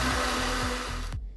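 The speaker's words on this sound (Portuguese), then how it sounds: "Primeiro, bata o capim santo com o leite" A kitchen blender whirs loudly as it purees lemongrass with milk, a steady, buzzing motor drone that runs close and alone before cutting off abruptly near the end.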